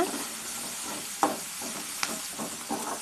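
Gongura greens with asafoetida sautéing in a pan, a soft steady sizzle with a few sharp clicks and scrapes of stirring, close and fairly quiet.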